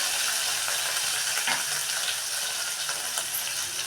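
Green chilli, tomato and onion sizzle in a hot tempering for palak bread upma, a steady, close broadband frying hiss with faint stirring scrapes and no talk.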